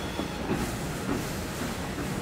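A train in the Transport Fever 2 game rolls along rails with a continuous rumbling drone and faint rhythmic wheel clatter, steady and moderately loud throughout.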